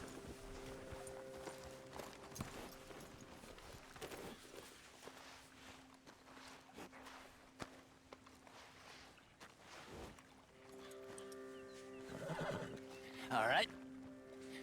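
A horse in the game Red Dead Redemption 2 whinnies near the end, after a stretch of ambient game sound with scattered soft footfalls and faint background noise.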